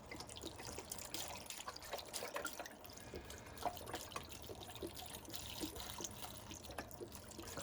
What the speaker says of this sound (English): And we add 2 litres of a good quality vegetable stock.